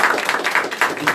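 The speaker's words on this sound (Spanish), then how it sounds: "Démosle un aplauso al Señor por esa victoria." A church congregation applauds in dense, rhythmic clapping, close and steady over a short stretch with regular accented beats.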